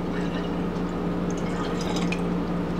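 Kombucha being poured from a cup into a jar, a steady close liquid trickle with small dripping splashes running the whole time against a low steady hum.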